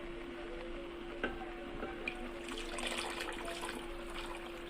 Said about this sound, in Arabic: حطينا اللبن بتاعنا اهو